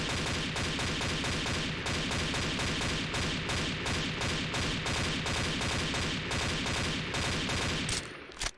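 Rapid automatic fire from an old HK gun in the shooter game XSHOT, a steady, loud stream of evenly spaced shots that runs unbroken for several seconds before cutting off at the end.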